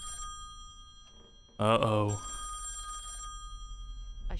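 An old-style telephone bell rings inside the horror video game Song of Horror, one loud burst of ringing that cuts in abruptly, with a hum lingering after; someone speaks briefly before it.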